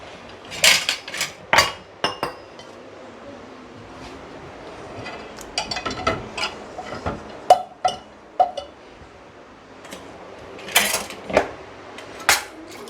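Dirty plastic and steel dishes, including a kadhai and a milk pot, are loaded into an IFB VX Plus dishwasher, making scattered, irregular clinks, clatters and metallic knocks close by, with quiet gaps between.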